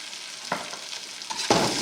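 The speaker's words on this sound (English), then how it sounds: "Give this all a little stir." Cumin and smoked paprika stirred in a hot frying pan, a steady broadband sizzle with two louder scraping bursts of a utensil moving the spices, close and alone with no talk.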